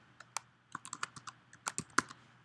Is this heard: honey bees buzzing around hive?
no